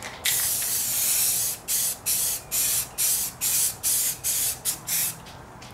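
Spray painting the third coat on a 1990 Miata trunk lid: a close, loud hiss of spray bursts, one long pass followed by a steady rhythm of short, evenly spaced blasts with brief gaps between them, heard alone.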